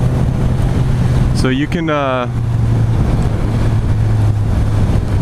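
A 2016 Suzuki GSX-S1000 inline-four motorcycle of 144 horsepower pulls smoothly away from a stop, its steady low engine drone running throughout while a rider briefly speaks over it.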